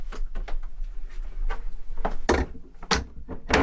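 A wooden drawer in a Swedish forest cabin slides open, giving a few dull thunks and scraping knocks spread over several seconds, close by and moderately loud, with no talk.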